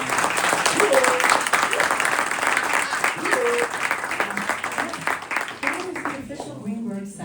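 Audience applause at a live Earn Your Leisure event in Greenburgh, a steady dense clapping that fills most of the stretch before thinning and fading near the end.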